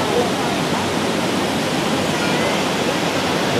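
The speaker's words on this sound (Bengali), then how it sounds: "এই জলটা পড়ছে উপর থেকে জল" Water crashes steadily down Athirappilly Falls, heard from right beside the spray as a loud, broadband, unchanging roar that fills the whole stretch.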